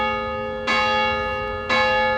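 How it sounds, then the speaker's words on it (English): A clock chimes twice indoors, each bell-like strike ringing out with sustained shimmering tones that decay slowly over a quiet background. "The clock chimes, telling me it's... What time is it?"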